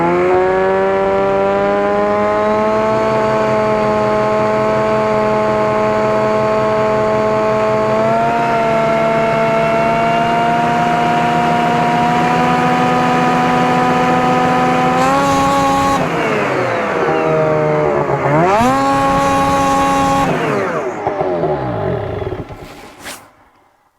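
A Ski-Doo 850 turbo snowmobile engine is run up on a stand, holding loud steady high revs before dropping and then snapping through a few short, sharp full-throttle blips that fall away to near silence.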